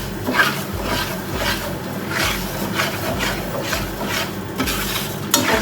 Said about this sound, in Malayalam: അതൊഴിച്ചു കൊടുത്ത് ശർക്കര എല്ലാം കൂടെ നല്ലതുപോലെ ഒന്ന് ഉരുക്കിയെടുക്കാം.